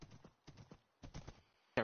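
Horse hooves clip-clop in Minecraft, three quick bursts of clopping steps with short pauses between, fairly close and clear, ending on a sharper thud.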